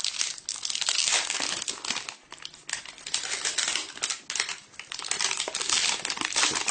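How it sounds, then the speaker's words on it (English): Plastic film being peeled and crinkled off a new PSP Go handheld console, a continuous close crackling and crinkling rustle with small irregular snaps, heard alone without talk. "Go ahead and peel off the plastic here."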